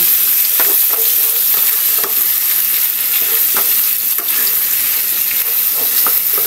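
Sliced bitter gourd (ampalaya) and a halved green chili sauté in hot oil, giving a loud, steady sizzle with frequent crackling spatters and occasional stirring scrapes throughout, no voices.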